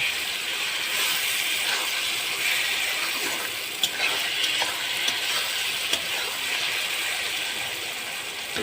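Mustard paste is stirred into a pan of frying katla fish roe with ridge gourd, giving a steady, loud oily sizzle with occasional faint scrapes and clicks of the spoon against the pan.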